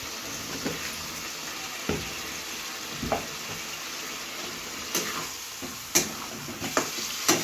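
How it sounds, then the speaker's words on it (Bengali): Spices with salt and turmeric frying alongside potatoes in a pan for a thin home-style chara pona fish curry, giving a continuous close sizzle broken by occasional sharp clinks and scrapes of stirring. "আমাদের মশলাটা কষানো হয়ে গেছে আলুর সাথে"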